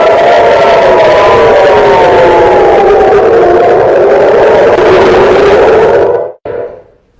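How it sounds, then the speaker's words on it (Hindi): Air raid sirens over Tel Aviv during an Iranian missile attack wail in a loud, steady, slowly drifting drone, heard from a distance, then cut off abruptly. "सायरन बज रहे हैं।"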